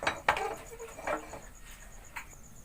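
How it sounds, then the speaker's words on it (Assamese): A metal kadai set down on a gas stove, a few sharp close clanks and scrapes at the start that fade into a faint, quiet background. "এয়া গেছটো জ্বলাই কেৰাহীখন পাতি দিম"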